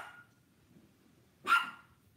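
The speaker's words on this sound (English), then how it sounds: "Excuse my dog in the background." A chihuahua indoors gives a short yip at the start, then one sharp bark a moment later, faint and slightly distant in a quiet room.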